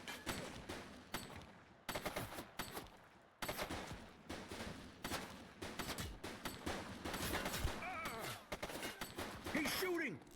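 Rapid gunfire in the police game Precinct, repeated bursts of sharp shots in clusters, fairly close and crisp, with a voice speaking briefly between volleys.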